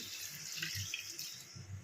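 Water, tinged with chili, is poured steadily into a cooking pot for a fish curry, a continuous close splashing rush lasting under two seconds with no talking.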